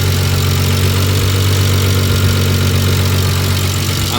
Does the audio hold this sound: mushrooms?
no